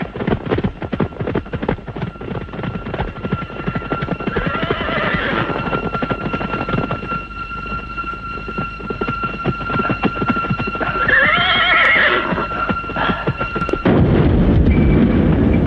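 Horses neigh in two loud whinnies over a continuous rush of galloping hooves and battle noise, ending in a heavy low rumble, from an old Indonesian action film chase scene.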